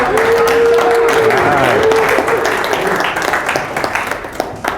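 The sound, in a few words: audience applause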